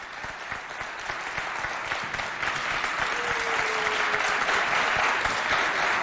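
A school audience applauds a contestant at a French-language high school quiz competition, a steady, dense clapping that holds loud and even for about six seconds with no talking over it.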